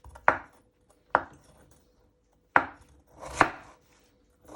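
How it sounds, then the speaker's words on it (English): A sharp kitchen knife chops ingredients for scouse on a board in four distinct, well-spaced thuds, close and crisp with quiet gaps between the strokes. "this time you're going to chop it 4 times"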